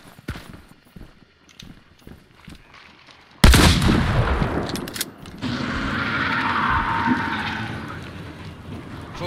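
A loud gunshot bursts out after a stretch of quiet clicks and handling noises, followed by a sustained roaring, rumbling tail and further scattered cracks.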